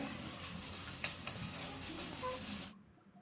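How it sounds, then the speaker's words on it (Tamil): Tomato and grated coconut sauté in a pan, with a soft continuous sizzle and faint stirring that cuts off abruptly near the end. "நல்லா வதக்கி விட்டுக்கோங்க தக்காளியில் இருக்கிற ஆயில் கண்டென்ட்டு போகிற அளவுக்கு வதக்கிக்கோங்க"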